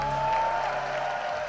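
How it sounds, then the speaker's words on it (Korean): A crowd at a Korean business event applauds briefly, a dense patter of clapping heard alongside a faint steady tone. "여러분 다시 한번 큰 박수 부탁드립니다."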